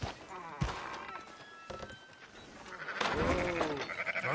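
Sheep in the Red Dead Redemption 2 video game bleat repeatedly in wavering cries over outdoor ambience, with soft thuds and a brief low voice mixed in.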